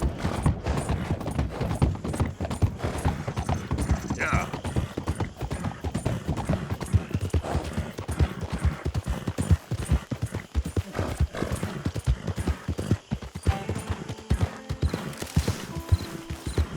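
A stolen horse's hooves clop steadily and loudly through the streets of Saint Denis in Red Dead Redemption 2, a fast, continuous run of hoofbeats held up close for the whole stretch.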